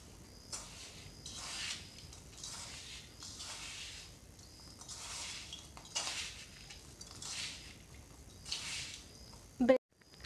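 Ground spice masala stirred into a filling for ginger-pepper kadabu in a vessel, giving repeated soft scraping and clinking strokes at a steady rhythm, close and fairly quiet, with a sharper knock near the end.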